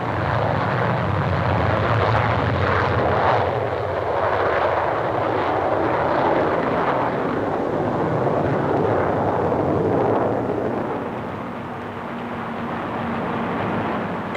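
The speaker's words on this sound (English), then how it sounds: "Comet 3 and Comet 2 flew together at the Farnborough show." A de Havilland Comet 3 jet airliner flies past at the Farnborough airshow, a steady broad engine roar that holds loud throughout and eases slightly near the end, with no talk.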